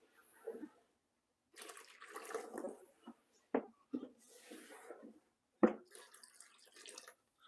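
Water splashes and trickles in short bursts as a keeper fills the pythons' water bowls, with brief clicks and knocks between pours, fairly quiet and without talk.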